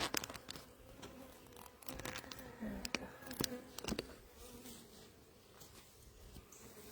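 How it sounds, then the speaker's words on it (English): Honey bees buzz around an open beehive during a gloved inspection. The low hum sits under frequent close rustles, clicks and knocks from handling the frames. "Let me get this put back in the hive."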